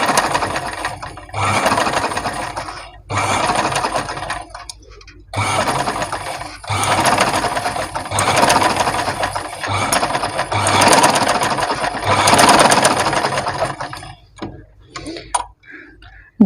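A sewing machine stitches a straight seam along a fabric edge in loud, close mechanical bursts of rapid rattling, paused briefly several times between runs, with no talking.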